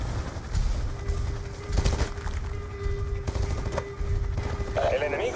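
Bursts of automatic gunfire in the Call of Duty Black Ops 2 campaign mission at Base Spectre, a few loud volleys in the first half and another near the end, set against steady battle noise and radio-style voice chatter.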